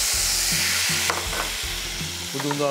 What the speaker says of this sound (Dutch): We doen onze paddenstoelen erin.